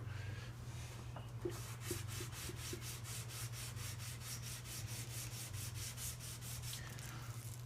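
Metal surfaces are rubbed and polished with fine sandpaper in a garage, a steady rhythmic back-and-forth scraping that stays faint under a constant low hum.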